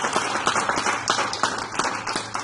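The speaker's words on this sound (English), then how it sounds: "let's first give Kent a huge round of applause" A class gives a guest lecturer named Kent a round of applause, a dense patter of many hands clapping at once that stays fairly steady and moderately loud, with no talking over it.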